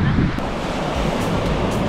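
Ocean waves washing onto a beach on Oahu, Hawaii, a steady close roar of surf with gusting wind noise across the microphone, and no talk.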